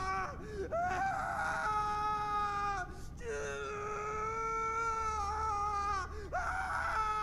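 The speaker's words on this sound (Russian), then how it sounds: "Может, хватит кричать?" Loud, sustained wailing screams, tonal and drawn out in several long cries with brief breaks, fill a scene from the horror game Saint Kotar: The Yellow Mask.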